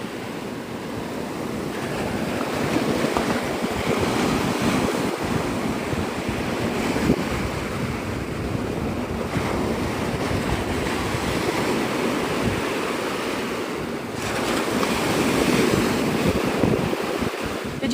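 Ocean waves breaking steadily along Navarre Beach at sunrise, a continuous loud wash of surf with rolling swells and some wind noise over the microphone.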